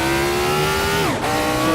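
A supercharged race car in Assetto Corsa revs hard with a loud, continuous engine whine that climbs, then dips sharply and recovers, heard alone without talk.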